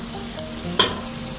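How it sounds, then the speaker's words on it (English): Soft steady hiss of rice grains being dry-fried and stirred in a hot pan, with a couple of brief scraping clicks. "I'm kind of dry frying my rice."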